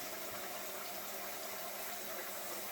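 Water running from a tap, a steady hiss and splash that stays constant for a few seconds, fairly quiet and with no speech over it.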